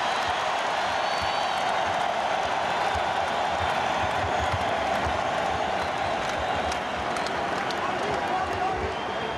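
Crowd noise fills an arena during an NBA Finals game between the Indiana Pacers and LA Lakers, a steady loud roar with cheering and occasional ball bounces, and voices talking over it throughout.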